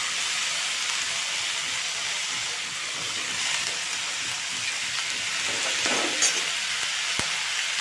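Mixed vegetables sautéed in spice masala in a pan for a Sankranti bhogi bhaji, with a steady broad sizzle and occasional stirring scrapes near the end, no talk.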